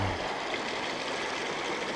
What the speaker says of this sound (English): One of the many little streams.